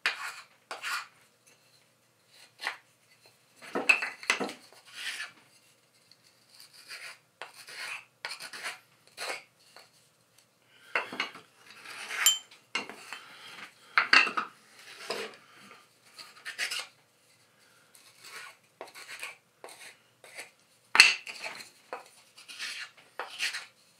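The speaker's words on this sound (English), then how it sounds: "Clean up all the burrs on these before I start putting them in." Parts of a pentagonal box are deburred by hand, giving soft scraping and rasping strokes in irregular bursts with pauses between. Close and quiet, with no talking.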